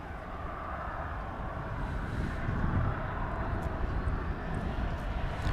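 An American Airlines Airbus A321 on its takeoff roll from runway 18 left at Dallas Fort Worth, a steady broad jet engine roar that builds slightly and holds, heard from a distance with no talk over it.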